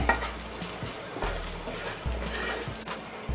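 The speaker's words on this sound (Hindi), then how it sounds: "अब इन सभी को हम 2-3 मिनट तक भून लिए हैं।" Onion, salt and spices sauté in a pan with a steady sizzle, broken by a few scraping stirs of a spoon against the metal, close up.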